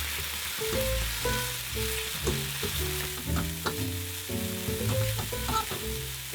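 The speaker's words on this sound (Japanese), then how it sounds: "葉がしんなりするまで炒めます。" Daikon leaves and chirimen jako stir-fry in a pan until wilted, under a dense, continuous sizzle with scattered tapping from the stirring utensil; no voices.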